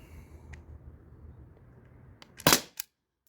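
An HDP50 Gen 2 launcher fires an aluminum ball, 2.7 grams. A faint low hum is followed by a single sharp, loud pop with a short trailing impact crack, then silence.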